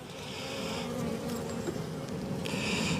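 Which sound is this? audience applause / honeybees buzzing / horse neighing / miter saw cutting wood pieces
honeybees buzzing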